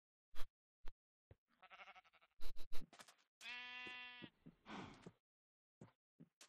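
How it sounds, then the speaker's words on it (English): Sheep in Minecraft with the Feed the Beast modpack give one clear, drawn-out bleat among a scattering of short clicks and scattered game sounds, otherwise quiet. "I don't know what the glitchy sheep is"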